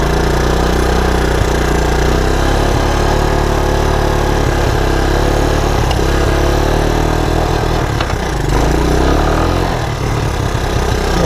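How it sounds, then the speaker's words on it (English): A 1984 Honda ATC 200ES three-wheeler runs with its choke on and won't throttle up from idle, a loud, close, continuous engine drone with a steady chug while it rides over rough ground. "Choke's still on. Little cruise to the front of the property."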